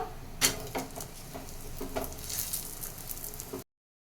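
A paratha fries in ghee on a hot pan, a steady close sizzle broken by a few soft taps and scrapes as it is pressed down.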